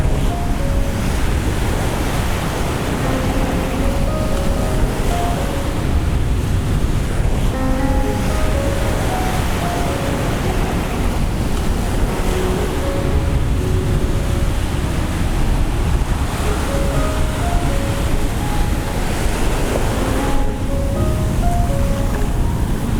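Ocean surf breaking steadily at a Puerto Plata beach in the Dominican Republic, a continuous loud wash of waves mixed with gusting wind buffeting the microphone, with no one speaking.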